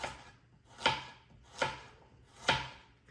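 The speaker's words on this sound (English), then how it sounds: "So we're definitely going to give this a rough chop" Three evenly spaced, crisp knife strikes land on a cutting board as vegetables such as carrots, onions and celery are roughly chopped. Each strike is followed by a short quiet gap, and nobody speaks.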